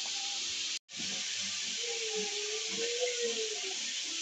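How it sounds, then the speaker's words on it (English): Onions sautéing in butter in a frying pan give a steady, soft sizzling hiss close by, briefly cut off once near the start, with faint low clinks and a quiet tonal hum beneath. "I'm just going to saute my onions just in a golden brown color"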